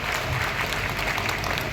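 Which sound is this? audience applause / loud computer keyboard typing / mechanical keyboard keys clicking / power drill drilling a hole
audience applause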